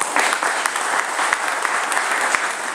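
Steady applause from a crowd at a book presentation, dense clapping that holds at an even level throughout.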